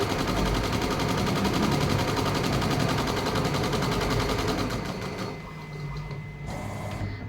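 A computerized embroidery machine stitching small booti motifs makes rapid, loud, close mechanical chatter that runs steadily, then eases and changes pace near the end.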